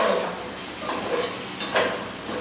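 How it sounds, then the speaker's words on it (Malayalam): Spices and pepper powder sautéing in a pan for a Christmas special chicken dish, a steady low sizzle with occasional stirring scrapes, close and moderately loud, no talking. "ഇനി നല്ല രീതിക്ക് ഒന്ന് വഴറ്റി കൊടുക്കാം"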